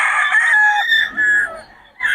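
A rooster from Nueva Ecija crows once, close and clear, a drawn-out strained call that falls away, followed by a brief second squawk.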